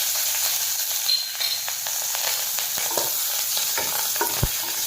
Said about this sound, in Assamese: মাছ ফ্ৰাই কৰা তেলখিনিতে এতিয়া পিঁয়াজখিনি দি দিম।